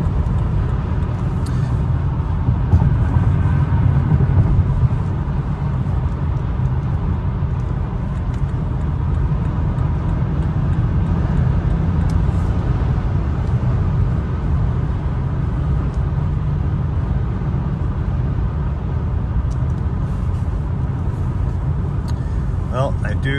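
A 2015 BMW 228i coupe with a six-speed manual, 56K miles, cruising and taking a freeway exit, its steady engine drone and road roar continuous throughout under occasional talk.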